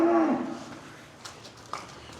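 A cow on a UK farm gives a single short moo at the start, followed by quieter barn ambience with a couple of small knocks, and no talking.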